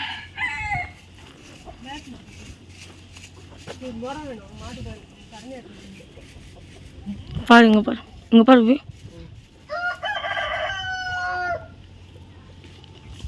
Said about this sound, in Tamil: சண்டை கோழி